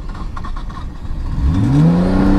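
Engine of a cheap used Nissan Cefiro A31 that keeps stalling, a low idling rumble with faint clatter that swells into a rising, whining rev toward the end.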